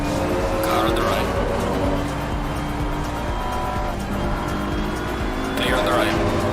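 Race car in Assetto Corsa Competizione driving under steady engine drone, with brief tire squeal near the start and again near the end, while someone talks over it.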